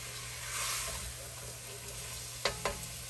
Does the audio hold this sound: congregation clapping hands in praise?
no